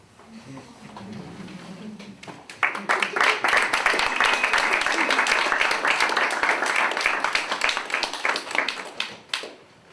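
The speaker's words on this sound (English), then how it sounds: "The clapping after every poem is scary" Audience at a poetry reading breaks into sustained applause after a poem, dense clapping swelling quickly and holding steady for several seconds before tapering off, preceded by a brief quiet murmur.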